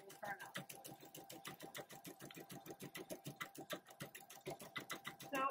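A PFAFF embroidery machine stitches a test pattern in a fast, steady rhythm of close, even needle strokes lasting throughout, with faint speech underneath.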